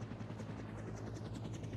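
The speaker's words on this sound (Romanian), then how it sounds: "Uuu, am plecat cu elicopterul." A helicopter lifts off in a Roblox game, its rotor making a steady, dense, continuous drone with a low rumbling throb throughout, loud and unbroken with no voices.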